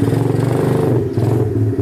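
A SYMOTO 50cc four-stroke motorcycle engine running steadily after starting, a close, continuous mid-low engine drone with light mechanical clatter and slight revving throughout.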